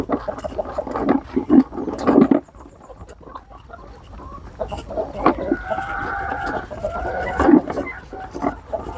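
Free-range domestic chickens kept as laying hens on a small Thai farm cluck repeatedly near and loud, with short bursts and a brief crow-like call, under faint background voices.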